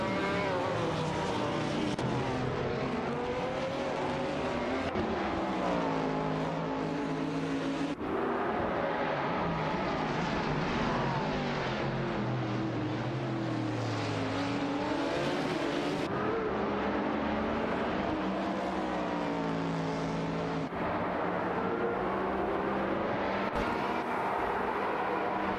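Race cars in a racing video game, including a Ferrari, roar around the track, loud continuous engine whine rising and falling through gear shifts and revs, with abrupt cuts between cars.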